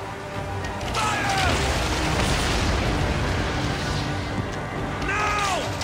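Cannons fire in a naval ambush at sea in Assassin's Creed Origins, a dense, sustained roar of blasts and rumbling booms with shouting voices over the battle.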